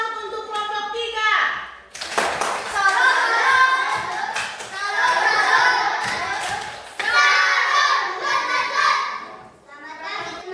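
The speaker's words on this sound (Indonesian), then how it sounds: "tepuk salut untuk kelompok 3" Schoolchildren in a classroom clap together for a presenting group, several bursts of rhythmic patterned clapping with children's voices chanting along between them.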